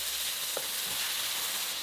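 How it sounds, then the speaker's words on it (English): Ground pork sizzles in hot avocado oil as it is stir fried, a soft continuous hiss with faint scrapes of stirring, heard alone and fairly quiet. "add the ground pork or other protein that you like and stir fry for about 2 minutes"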